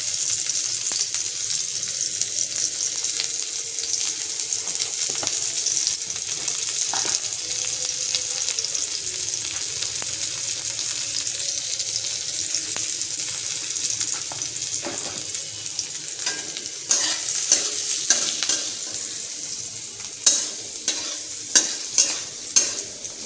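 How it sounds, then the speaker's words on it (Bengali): Chopped beans with a little salt and turmeric fry in a wok, a steady close sizzle running throughout, with scraping stirs and sharper metallic spatula knocks clustering near the end. "এবার আমি কড়াইতে দিয়ে দেব বিনস যে বিনসগুলো কেটে রাখা"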